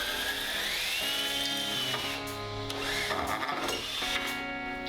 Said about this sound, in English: With an 8mm long drill bit, I'm making a hole to accommodate the truss rod nut